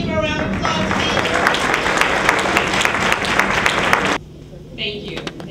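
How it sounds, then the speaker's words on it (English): A meeting audience claps for a county commissioner candidate, steady dense applause for about four seconds that stops abruptly, then quiet room tone with a few scattered claps. "Can we give her a round of applause, please?"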